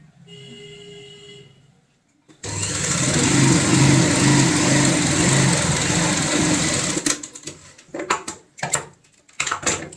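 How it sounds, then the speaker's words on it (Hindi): Sewing machine stitching fabric pieces of a ladies' handbag at home, running steadily and loud for about four and a half seconds, then stopping into a few short clicks and handling noises. "और यहाँ पे लगाएंगे हम सिलाई।"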